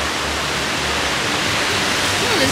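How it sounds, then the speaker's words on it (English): A waterfall in a San Diego Zoo exhibit rushes in a constant, loud wash of noise, with no breaks or changes. "Oh, there's waterfalls."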